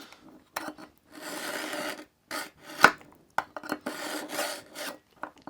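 A knife is drawn across a Smith's Pocket Pal sharpener in several rasping strokes, each a short scraping burst with quiet gaps between and one sharp click partway through.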